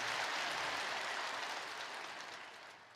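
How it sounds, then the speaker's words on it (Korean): A congregation applauds during a Christmas worship service at Yoido Full Gospel Church, a dense, fairly faint patter of clapping that slowly fades toward the end. "우리 하나님께 영광의 박수를 드리겠습니다"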